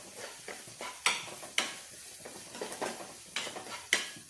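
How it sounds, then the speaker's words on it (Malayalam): Curry leaves fry in oil in a pan while a spoon stirs them. Several scraping strokes and light clinks sound over a soft sizzle, close but fairly quiet, with no talking. "നന്നായി ഇളക്കാം."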